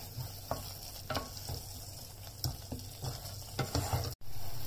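A spoon stirs Chettinad-style mushroom kuzhambu masala in a pan, with soft sizzling under periodic scraping strokes, fairly quiet and without talk.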